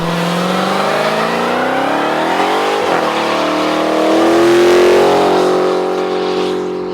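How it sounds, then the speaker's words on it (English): A Dodge Hellcat's supercharged Hemi V8, rated at 707 horsepower, revs up loudly and close, its deep engine tone rising and falling in pitch through a couple of throttle blips with a supercharger whine and no talking. "Big Hemi V8 supercharged, are you kidding me?"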